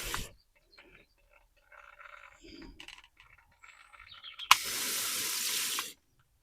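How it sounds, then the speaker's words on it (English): Cauliflower seed trays are gently watered with a short, soft hiss of water lasting about a second and a half, after quiet handling rustles. "I'm just going to gently water these in"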